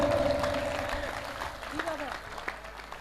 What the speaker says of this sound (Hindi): तो एक बार तालियां बजाओ बाबा मौर्य के लिए